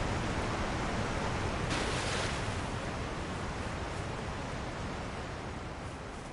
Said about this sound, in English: That waterfall is actually pretty loud.